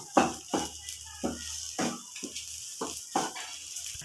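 A spatula stirs lote fish filling, mixed with boiled potato and chopped coriander, in a frying pan. About eight distinct scraping strokes come at a steady, unhurried rhythm, close and fairly quiet.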